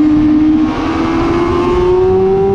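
A motorcycle engine holds a loud, steady, slowly rising drone as the rider accelerates into turn 4 of the Dubai Autodrome Club Circuit, close and continuous with no talk.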